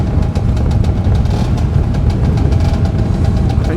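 An old Harley-Davidson motorcycle engine idles loud and close, a rough, lumpy, shaking rumble with rapid uneven pulses that never lets up, heard alone without talk.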